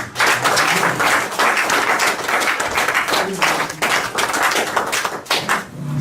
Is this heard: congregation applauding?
yes